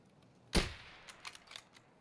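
A single sharp gunshot in the video game Escape From Tarkov, loud and close, followed by faint clicks and rattles trailing off.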